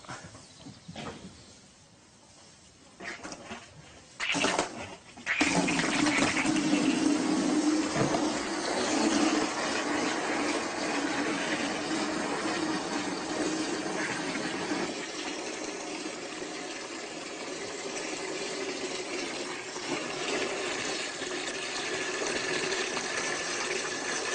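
Water runs from a tap in a steady, full rushing stream that begins after a few seconds of quieter handling noise and then continues close and loud until the end.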